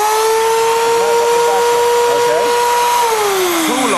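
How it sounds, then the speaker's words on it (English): An Exakt vacuum cleaner held beneath a running drill gives a loud, steady whine that holds a constant pitch for about three seconds, then slides downward as the drill winds down. "hold the vacuum cleaner underneath. Now, when you turn the drill on, within a second,"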